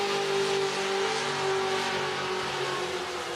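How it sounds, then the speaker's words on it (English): A skid truck at the Summernats burnout event roars at high revs, a loud, sustained, slightly wavering engine drone that fills the whole moment. "Here comes Farm Truck in the skid truck."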